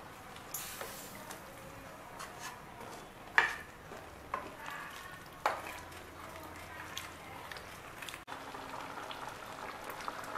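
Sambar with tamarind water simmers in a pot, giving soft, irregular bubbling and popping at a low level, close by, with no talking.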